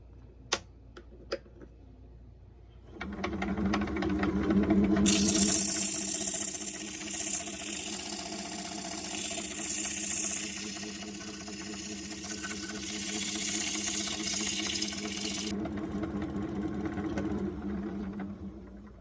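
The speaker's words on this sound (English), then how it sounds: "I intend now to get the sander out, and we'll sand that all out." Power sander working a turned wooden candy dish on a lathe, a loud buzzing whir that starts after a few faint knocks and runs steadily, close up, before easing off near the end.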